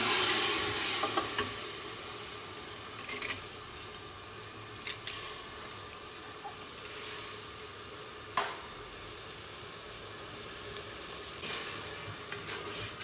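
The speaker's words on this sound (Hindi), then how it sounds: "माश की दाल इसमें डाल दी है" Soaked urad (mash) daal fries in hot masala in a pan for a Pakistani-style daal mash, with a steady close sizzle and occasional scraping stirs and clinks, no speech.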